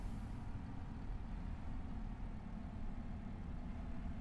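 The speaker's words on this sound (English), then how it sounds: "All you hear is the transaxle underneath it" A tractor transaxle in Farming Simulator 25 runs with a quiet, steady low mechanical drone and a faint whine, unchanging throughout.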